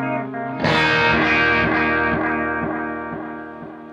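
Electric guitar through a Clockwork Echo delay pedal: a strummed distorted chord rings out while warbling, pitch-wobbling repeats pulse beneath it, decaying gradually, loud and close with no talking.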